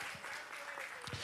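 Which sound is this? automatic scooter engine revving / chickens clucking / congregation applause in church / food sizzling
congregation applause in church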